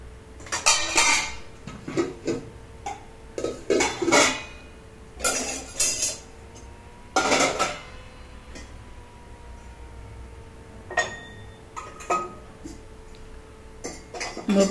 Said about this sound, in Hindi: ये सुबह में मैंने बर्तन धोए थे, इस बर्तन को फिर वापस मैं अपनी जगह पर रख देता हूँ।